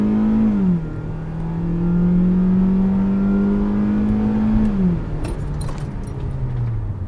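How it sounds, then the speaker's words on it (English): A 2015 Kia Soul accelerating hard in sport mode, a loud, steady engine drone rising slightly in pitch, dropping briefly at a gear change, then climbing again, heard close from inside the cabin with no talk. "It's definitely got a willing engine, and it put me back in my seat a little bit."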